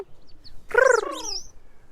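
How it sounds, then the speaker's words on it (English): A single short bird phrase, clear and fairly close, rising and falling whistled notes lasting under a second against a quiet background, attributed to a robin. "That's a robin."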